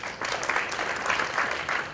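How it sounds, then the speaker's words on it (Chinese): Audience applause fills a lecture hall at the close of a talk at a semiconductor big-data training course, steady clapping from many hands, close and fairly loud, with no voices over it. "再次以热烈掌声感谢"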